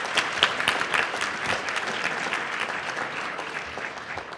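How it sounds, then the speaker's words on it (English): An audience at a school awards ceremony claps steadily, a dense, close wash of applause that stays even for several seconds without talk. "So round of applause, please, for Urvi."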